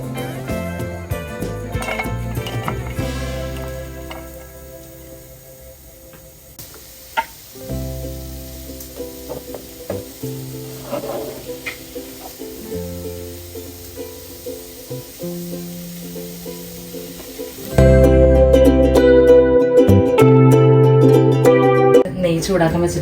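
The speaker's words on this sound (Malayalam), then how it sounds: "നമ്മൾ അടുത്തൊരു പാൻ വെച്ചിട്ട് നമ്മൾ സബോളയും കാര്യങ്ങളൊക്കെ മൊരിയിക്കാനായിട്ട് നോക്കുന്നുണ്ട്" Onions fry in a pan for ghee rice, giving a soft continuous sizzle that sits under other kitchen sounds and grows louder and busier toward the end.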